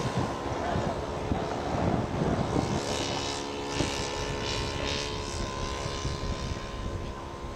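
A propeller-driven scale model airplane flies at a scale aircraft show, its engine a steady, moderately distant droning whine that rises slightly as it passes, while spectators talk in the background.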